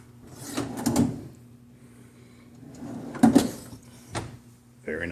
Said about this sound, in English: refrigerated drawers.